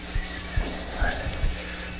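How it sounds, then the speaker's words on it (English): Sandpaper worked by hand along a cabinet seam being prepared for laminate, giving a steady close rubbing hiss with about four soft strokes that pulse evenly across two seconds. "I'm just trying to, in my last ditch effort, to use sandpaper to get that seam a little more hidden"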